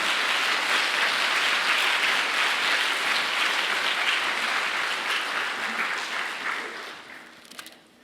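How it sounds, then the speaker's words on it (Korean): A church congregation gives loud, sustained applause to welcome a retired senior pastor. The dense clapping holds steady for several seconds, then tapers off near the end. "오실 때 우리 큰 축복의 박수로 맞으시면 감사하겠습니다"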